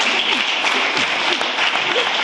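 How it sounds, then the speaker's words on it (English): Audience applause at a MOVE2011 talk, a dense steady patter of many hands clapping at even loudness for the full stretch, with no voices over it. "So I think you all should give me a round of applause for that."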